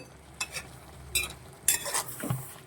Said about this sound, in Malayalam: ചെറുതായിട്ട് ഇളക്കിയാൽ മതി, അല്ലെങ്കിൽ അത് ഉടഞ്ഞു പോകും